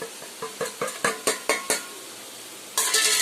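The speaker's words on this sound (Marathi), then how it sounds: "त्याच्यामध्ये सगळे मसाले टाकून मी सगळं एकजीव करणार" Spices stirred into three spoonfuls of curd for a bhindi sabzi, with about seven rhythmic spoon taps against the bowl, close and even, then a burst of louder scraping near the end.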